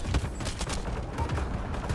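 Gunfire from the Mass Effect Andromeda (2017) video game: a three-shot weapon fires in rapid bursts, loud and close, the sharp cracks stacking into a busy volley with no voices over it.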